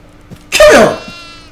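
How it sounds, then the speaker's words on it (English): A goat bleats once in the horror game Devour, a loud, wavering cry that rises and falls over about half a second and then trails off into quiet. "Do we gotta follow that goat?"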